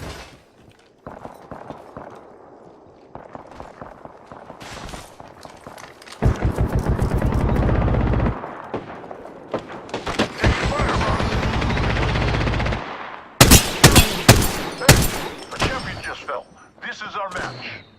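Gunfire in the battle royale game Apex Legends: sharp shots and dense rapid bursts come in loud, sustained volleys through the middle of the clip, then scattered heavy cracks near the end.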